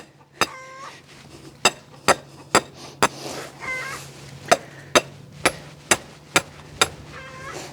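Rebar is hammered into the ground at an angle to anchor a chicken tractor on a small farm. About thirteen sharp, ringing metal strikes fall at an even, brisk pace over a low steady hum.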